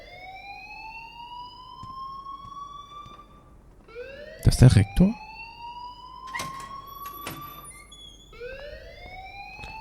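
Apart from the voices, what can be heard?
school alarm ringing in video game Life is Strange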